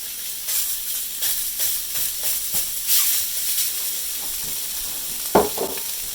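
Meat for a breakfast of sausage gravy fries in a hot pan with a loud, steady sizzle and hiss, broken by irregular stirring scrapes and a sharp knock near the end.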